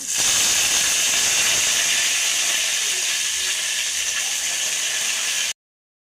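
Curry leaves hitting hot oil while rasam is being made: a loud, steady, bright sizzling hiss that holds evenly for about five seconds and then cuts off abruptly, with no talking.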